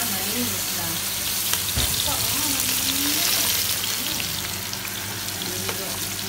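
Food sautés in a pan with garlic, onion and seasoning cubes, giving a steady, close sizzle. A brief clatter of stirring comes partway through.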